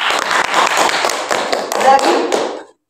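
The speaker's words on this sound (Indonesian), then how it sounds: "berikan tepuk tangan" A classroom of students claps for a classmate who answered correctly, a dense, close patter of hand claps that stops abruptly.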